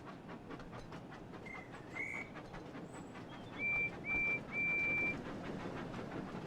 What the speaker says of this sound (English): Oh yeah, thanks for whistling back, mate.